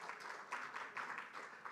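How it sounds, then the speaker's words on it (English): Applause from a conference audience, a dense burst of many hands clapping in uneven swells, fairly faint and heard alone. "just give a big applause"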